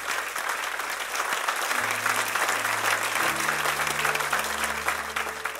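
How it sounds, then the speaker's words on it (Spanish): A church congregation applauds in a thick, continuous wash of clapping, while low sustained keyboard or organ notes play steadily beneath it. "Dale un aplauso al Señor."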